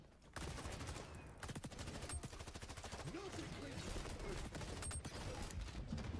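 Rapid bursts of video game weapon fire as two full magazines are emptied, dense repeated shots running almost nonstop for about six seconds, with voices talking faintly underneath.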